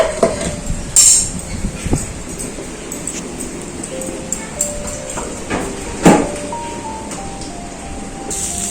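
A pot of khichuri is lifted off a home stove, with sharp metallic clanks and scrapes of cookware at intervals over a hissing, sizzling kitchen background.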